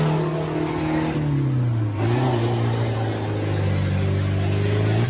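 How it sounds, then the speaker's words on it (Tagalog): Engine of what may be an older Toyota Hilux pickup labouring steadily, a loud sustained drone that rises in pitch partway through as the truck pushes on, with no talk over it. "Grabe, lakas talaga ng makina, no?"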